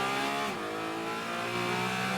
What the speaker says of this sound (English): That 4-liter mid-engine Porsche Cayman sounds really good.